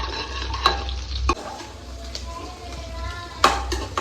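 A spoon scrapes and clanks against a pan while coastal-style crab curry with curry leaves is stirred, several sharp metallic knocks over a low sizzle, close and fairly loud, with no speech.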